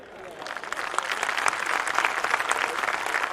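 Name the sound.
audience applause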